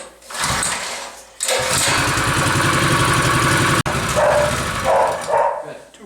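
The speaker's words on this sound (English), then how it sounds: "Brand new motor, so we're going to try firing it up before we go down." A brand new small engine on a 2-inch highbanker dredge fires up with a pull and settles into a loud, buzzing idle that cuts out briefly, with people talking over it outdoors.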